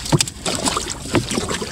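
A small boat is paddled by oar off Sta. Cruz, Zambales, giving a few quick splashy strokes and water swishes in an uneven rhythm, close to the microphone with some wind buffeting.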